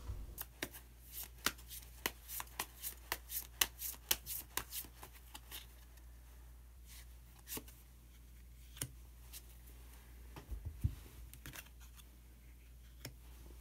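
Tarot cards shuffled and drawn from the deck: a quick run of crisp, close riffling snaps and flicks, then sparser single card slaps, with no talking.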